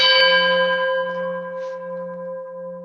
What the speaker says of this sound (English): It's a Tibetan temple bell.